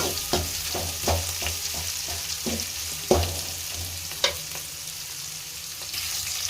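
Onions frying in a pan for veg fried rice: a steady bright sizzle with occasional stirring clinks and scrapes, close and continuous, no voices.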